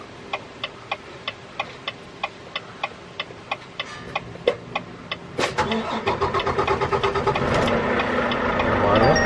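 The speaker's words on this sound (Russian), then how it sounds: "Завожу машину." A semi truck's diesel engine cranks and catches after a steady run of dashboard ticks, then settles into a loud, rising rumble close by; faint talk sits beneath it.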